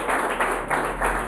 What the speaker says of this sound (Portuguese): Louva o Senhor com as palmas bem forte para Jesus.